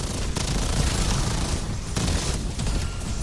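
A high fire rate LMG roaring in Black Ops 7 Zombies, a loud sustained stream of rapid shots with brief breaks between bursts.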